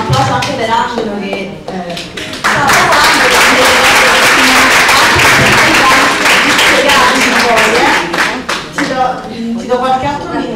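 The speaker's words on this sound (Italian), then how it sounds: "Un applauso anche per Angelo" Audience applause for Angelo at a Global Women Breakfast event, starting over scattered voices and swelling into loud, sustained clapping for several seconds before thinning out again.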